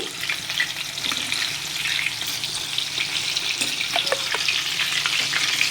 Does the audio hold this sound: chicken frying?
yes